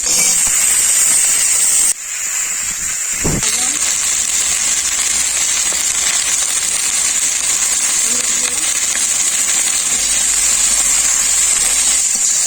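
Sliced potatoes and bheri fish fry in hot oil, a loud, steady close sizzle and hiss that runs almost without a break, with one brief dip and a soft knock.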